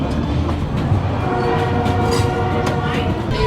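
Steady rumble of the Napa Valley Wine Train rolling along the rails, with a continuous low drone and faint rhythmic clatter throughout.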